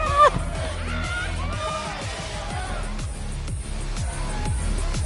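Concert crowd noise in the video game Life Is Strange: Double Exposure, a steady din of cheering and babble mixed with loud music, with a brief louder burst near the start.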